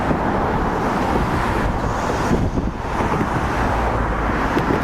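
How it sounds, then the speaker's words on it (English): Trucks and cars passing in lanes on both sides of the Tay Road Bridge in Dundee, Scotland: a continuous loud roadway roar mixed with wind buffeting the microphone, with no clear individual pass-bys standing out. "You can hear the trucks going both sides."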